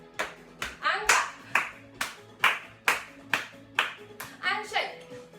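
Young children aged two to five at a creative dance session clap their hands in a steady rhythm of about a dozen sharp, close claps, with speech in the background.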